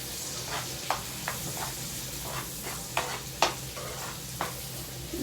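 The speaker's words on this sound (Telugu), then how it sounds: "పచ్చిమిరపకాయలు ఉల్లిపాయలు వేసేస్తున్నానండి" Small green chillies and onions fry in a pan, with a quiet steady sizzle and occasional scraping stirs at irregular intervals, close but faint.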